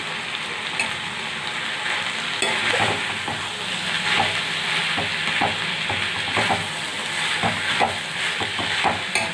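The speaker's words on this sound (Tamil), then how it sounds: "இப்போ நான் எடுத்து வச்ச புளியும் பின்ன கொத்தமல்லியும் சேர்த்துட்டு நல்லா வதக்கிக்கலாம்" Radish sizzles steadily in a pan as tamarind and coriander are sautéed with it. A spatula gives occasional stirring scrapes and taps over the constant close frying hiss, and no one speaks.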